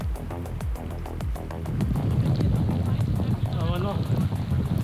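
Wind buffets the microphone while cycling along the Schlei on a cold, 200 km audax brevet ride into a headwind, a close, loud rumbling roar that strengthens midway and persists throughout.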